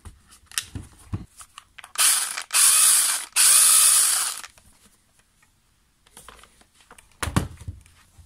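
Mechanical ratcheting and clicking while tightening the chain on a Makita DUC150Z cordless pruning saw converted from a DUC101Z: soft scattered clicks, then two loud, harsh sustained bursts near the middle, then quieter clicks and a final sharp burst.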